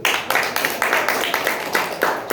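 Audience at a business gathering clapping in rhythmic unison, loud evenly spaced claps at a steady beat for the whole stretch.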